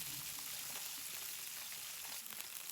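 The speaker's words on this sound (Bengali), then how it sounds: "এই তো মাছটা কিন্তু ভাজা হয়ে গেছে উভয় পিঠ।" Fish frying in hot oil gives a faint, steady crackling sizzle, heard alone for a few seconds without any talk.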